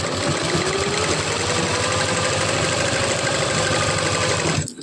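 A sewing machine stitches a silk blouse belt with a rapid, steady mechanical chatter. It runs close and continuously, then stops abruptly at the very end.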